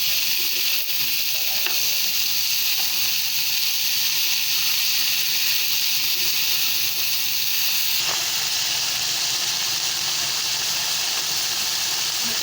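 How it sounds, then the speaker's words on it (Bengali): Vegetables for a noodle dish fry in a pan with a steady, loud hiss and sizzle that runs unbroken throughout, with no voices. "সবজিটা ভাজা হচ্ছে"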